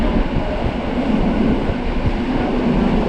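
Interior rumble of a Polregio passenger train rolling toward Zakopane, a steady loud low roar with faint rhythmic wheel clatter throughout, no voices.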